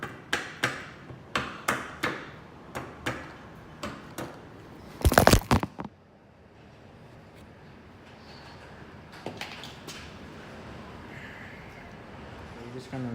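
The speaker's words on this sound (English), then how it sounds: "you'll probably have to use a rubber mallet to tap it in on the KTM, because they don't like to go in all the way" A rubber mallet taps a bearing into the headset of a KTM dirt bike, with about a dozen dull, evenly spaced close knocks followed by a short burst of rattling, then quieter work noise, and a person talks.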